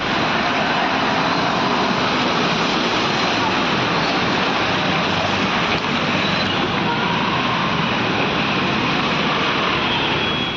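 Heavy rain pours down steadily in Coimbatore's Thondamuthur area, a dense, loud, unbroken hiss of downpour with water rushing across flooded roads, continuous throughout with no pauses.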